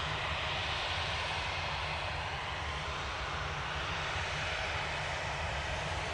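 An airplane taxis at Manchester Airport, giving a steady, unbroken engine roar that holds at an even level throughout, with no voices.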